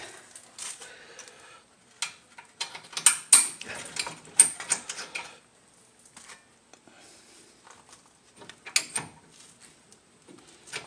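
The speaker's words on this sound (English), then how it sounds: "You take your 7mm socket, you can use your ratchet." Ratchet with a 7mm socket loosening the front brake caliper bolts on a 2010 Kia Soul, heard as bursts of close, sharp clicking that pause and resume, with no talk.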